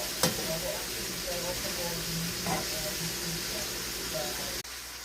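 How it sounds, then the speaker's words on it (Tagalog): Vegetables and bean sprouts fry and get stirred in a hot pan, giving a steady sizzling hiss throughout with a couple of brief scraping stirs, close and moderately loud. "Haluin natin."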